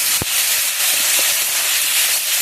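Water hits a hot, spicy black carp kalia curry in the pan, setting off a loud, steady sizzling hiss with one sharp pop near the start.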